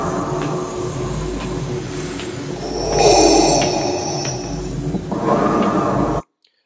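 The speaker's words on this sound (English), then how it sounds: "we've got our Darth Vader breathing MP3" Darth Vader breathing sound effect played from an MP3 file: a slow, hissing mechanical inhale and exhale repeating in a steady cycle. It sits close and fairly loud, then cuts off abruptly at the end.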